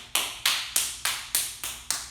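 A hand taps briskly on the body during a daily warm-up routine. Seven crisp, evenly spaced slaps land about a third of a second apart, close and clear, with no talking.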